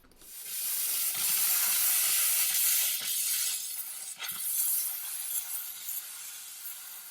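A steamer hisses steadily against a painted wooden buffet panel, a bright continuous spray of steam close by with small clicks and knocks as it moves across the surface.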